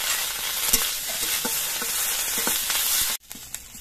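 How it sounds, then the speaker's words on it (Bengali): Neem leaves fry in a little oil in a wok, giving a continuous close sizzle broken by scraping stirs, before the sound cuts off sharply near the end. "এই তেলের মধ্যে আমি নিম পাতাগুলো ভেজে নিচ্ছি।"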